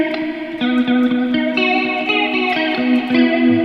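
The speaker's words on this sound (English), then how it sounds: "next up I want to go to the flanger" An electric guitar plays sustained chords through the flanger of a Sonicake Warped Dimension modulation pedal, a sweeping, whooshing effect with a washy, jet-like shimmer and steady loudness.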